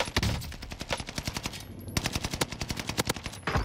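Rapid automatic gunfire in the Warzone battle royale shooter, sharp repeated bursts with a brief gap midway, loud and close, with no talk over it.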